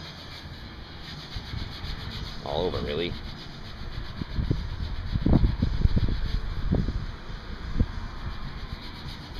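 Hand sanding scrapes rub back and forth against a bus body outdoors, close up, in irregular strokes while a person speaks briefly.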